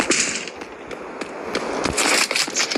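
Fireworks set off in a shooting video game, a quick run of sharp crackling bursts and pops close up, dense and fairly loud with no talk.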